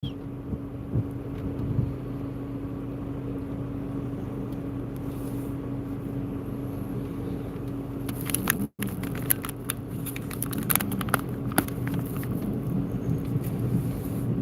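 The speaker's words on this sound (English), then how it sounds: "You can probably hear the thunder in the background." Thunder rumbles low and steady from an approaching supercell storm in West Texas, with continuous rain noise and no talk.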